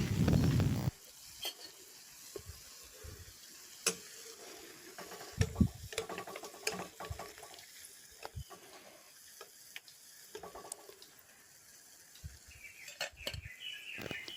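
Gram-flour battered bajji fritters, green chili and tender jackfruit, deep frying in oil, a quiet continuous sizzle broken by scattered clinks and taps of a utensil.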